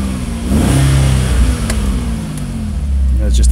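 An Audi RS4 fitted with a 2.7T biturbo engine running and revving, a loud, close engine hum with a rising pitch, while someone talks over it.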